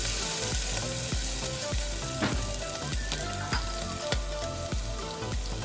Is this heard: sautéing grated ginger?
yes